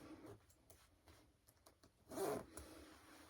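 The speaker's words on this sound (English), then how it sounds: "and pull up the zipper." Zipper on a digitigrade fursuit pulled up, a few soft preliminary rustles and taps followed by one short, close zipping sweep, quiet overall.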